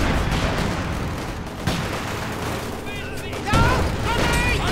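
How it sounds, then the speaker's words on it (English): Battle sounds from the Company of Heroes 2 video game, dense rattling gunfire and booming grenade blasts in a continuous barrage, with a commentator talking over them. "Grenades going off as well."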